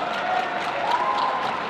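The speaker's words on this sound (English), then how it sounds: "Something happened that generated quite the applause." Soft, somewhat distant audience applause at a card game tournament, a brief steady wash of clapping from a crowd, fairly faint throughout.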